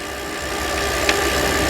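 An electric bike driven by a skateboard motor through a 3D-printed pulley climbs a steep hill, emitting a steady, close mechanical whine and hum with a brief tick near the end and no voices.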